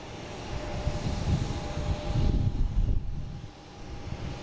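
A JetBlue Airbus A220 arriving from Houston at Boston Logan Airport, a low rumbling engine roar that swells and fades over a few seconds, moderately distant with a faint steady tone above it.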